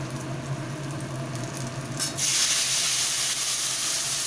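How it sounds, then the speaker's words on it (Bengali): Spices tempering in hot oil for a Bengali kachchi hilsa dish, with mustard paste going in; a soft sizzle jumps to a loud, steady broadband frying hiss halfway through. "আমরা ফোড়ন দিয়ে দিলাম"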